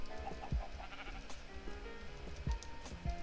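Minecraft sheep bleats a few times in short, fairly close calls, with a steady game background and no talking.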